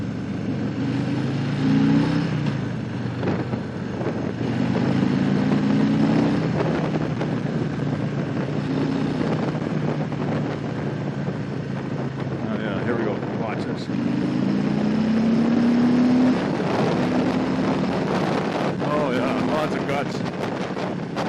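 A Harley-Davidson Fat Boy motorcycle rides along steadily, its engine rumbling under heavy wind noise throughout, with pitch rising and falling as it accelerates and shifts.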